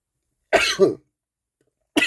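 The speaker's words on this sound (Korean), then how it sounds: "재채기가 나와서" During a lecture on the heart and blood pressure, a loud, close sneeze bursts out in two quick explosive parts, followed after a pause by a shorter voiced burst.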